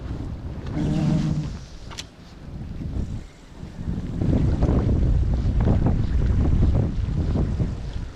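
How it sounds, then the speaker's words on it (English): Strong wind gusting over a lake while bass fishing from a boat on a rainy day, a loud continuous rushing roar with microphone buffeting and no speech. "It's kind of windy."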